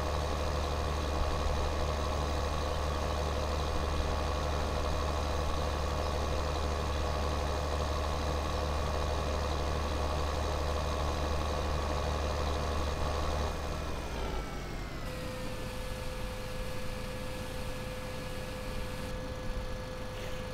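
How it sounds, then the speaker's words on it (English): Tractors sit idling in the Farming Simulator 2013 video game, a steady, droning engine hum that holds constant, then shifts to a slightly different pitch and tone partway through, with no one talking. "I'm leaving all my tractors running."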